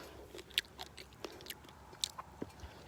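Someone bites into and chews fresh fruit picked outdoors, with quiet, close, irregular crunchy bites and wet mouth sounds spread across the clip and no talk.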